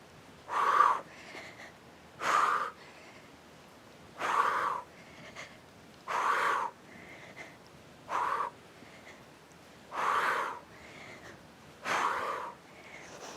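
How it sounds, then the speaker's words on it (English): Heavy, rasping breaths during an exercise workout repeat in a steady rhythm, about one every two seconds, loud and close with quiet gaps between each exhale. "You hear my breathing?"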